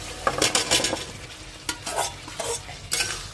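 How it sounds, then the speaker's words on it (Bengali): Taro chunks being sautéed and stirred in a pan with salt, turmeric, chili powder and tomato puree for a Bengali kochur dom, giving repeated scraping stir strokes over a soft frying sizzle, close and moderately loud. "একটু ভালো করে কষবো।"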